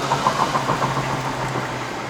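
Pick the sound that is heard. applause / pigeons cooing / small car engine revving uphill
small car engine revving uphill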